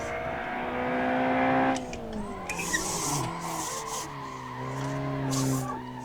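An underpowered front-wheel drive car drifts, its tires squealing in long wavering tones while the engine drones and revs, loud and close throughout.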